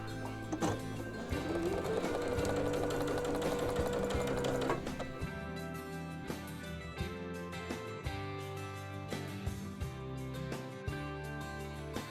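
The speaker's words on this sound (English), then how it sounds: "we're going to fold them up and sew them with a 1/4 inch seam" A sewing machine runs steadily for several seconds stitching quilt fabric pieces with a quarter-inch seam, then stops, leaving lighter handling noises; the machine is close and fairly loud, with no talking.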